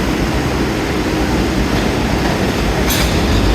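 A New York City subway train pulls out of the 33rd Street IRT station, a loud, close, continuous rumble of rolling cars with a brief high squeal of wheels near the end.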